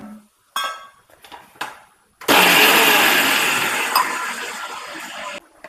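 A few clinks and taps of a jar being set in place, then a mixer grinder roars loudly for about three seconds grinding shallots and garlic, its whirring pitch shifting slightly before stopping.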